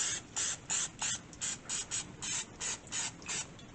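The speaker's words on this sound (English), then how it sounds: "I have some olive oil cooking spray" Quick, rhythmic bursts of hissing olive oil cooking spray into a silicone soap mold, about a dozen short spurts in a row, close by and fairly quiet.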